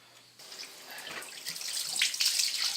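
Smoked trout fillets are rinsed under a running kitchen tap to draw out salt; a steady splash of water swells louder over a few seconds, with no talk.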